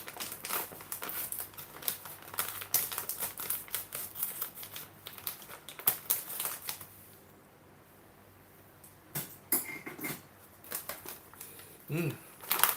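Scissors snip open a bag of curry-flavored potato chips, the plastic packaging crinkling in a close, busy rustle that pauses briefly before a few sharper cuts and crackles.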